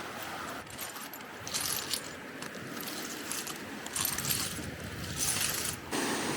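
Footsteps crunch along a beach made of coral fragments, each step bringing bright, glassy clinks and rattles over a steady background wash.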